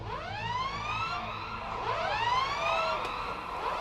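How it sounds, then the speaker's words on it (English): Several air raid sirens in a video game wail and rise and fall at once, overlapping in long sweeping tones, moderately loud with a low rumble beneath. "greeted by the screams of sirens"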